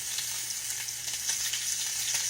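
Hoecake cornbread sizzles steadily in a hot pan, a constant bright crackle with small pops, close and alone.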